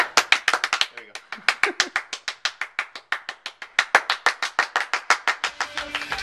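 Grown men clap their hands together in a steady, fast run of sharp, close claps, about thirty in a row with a brief uneven stretch near the start. Faint chatter comes in toward the end.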